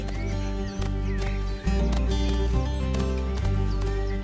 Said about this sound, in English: This region is home to an old Swiss horse breed